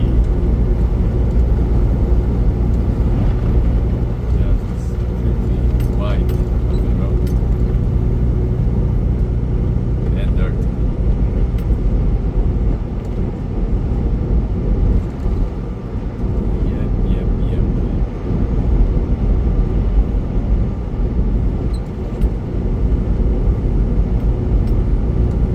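A big rig truck drives along US-59 through Wyoming near Douglas with a continuous, loud low engine and road rumble throughout, steady cab noise with no breaks.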